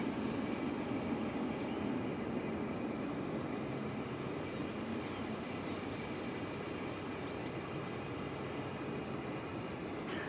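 A Korean Air cargo Boeing 777 taxis toward runway 18 left at DFW Airport, a steady distant jet engine whine and roar droning throughout without speech.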